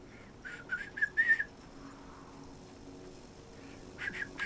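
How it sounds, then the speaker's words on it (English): A person whistles a few short, wavering notes, near and fairly quiet, in two bursts with a pause between; the tone is thin and unsteady. "I can whistle, yes. Not very well, but I can whistle."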